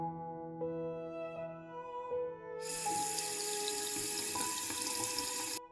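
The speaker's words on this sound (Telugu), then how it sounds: "చూడు, నల్లా తిప్పి నన్ను ఇలా నింపేసుకుని తీసుకువెళ్ళిపోతుంటారు." A tap is turned on and water gushes steadily into a vessel for about three seconds, following a few tonal clinks, with no speech.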